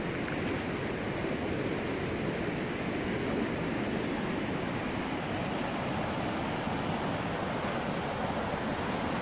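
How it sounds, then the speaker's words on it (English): Steady, loud rushing water with a constant broadband roar of waves churning on a flooded river in a park, continuous throughout with no voices. "it's amazing how there's waves coming off of this"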